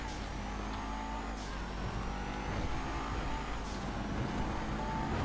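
A car engine drones and revs in the video game GTA 5 on a mountain, a steady, fairly faint motor hum with mild rises in pitch and no talking.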